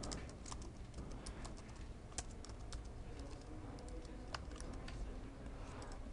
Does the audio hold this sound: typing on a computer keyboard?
yes